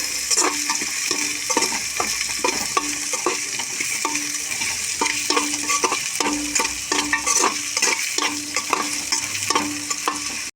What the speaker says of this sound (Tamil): மிளகாய், வெங்காயம் மிளகாலாம் போட்டு நல்லா வதக்கி விட்டுக்குவோம்.